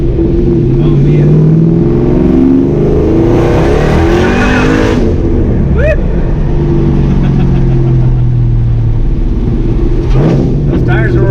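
A hot rod engine runs hard, loud and close, while its tires grip, the engine pitch rising and falling throughout with brief squealing bursts and people talking over it.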